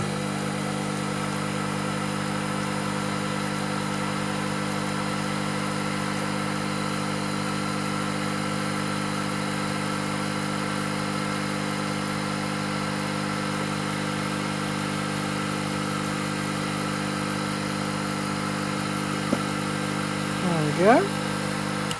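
The counter shaft of a PM Research milling machine kit spins up, giving a steady, even mechanical hum that runs unbroken for the whole stretch, with a brief knock near the end.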